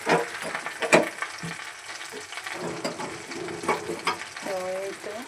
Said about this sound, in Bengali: আমাদের চিকেন ফ্রাই মানে শেষ মুহূর্তে চলে আসছে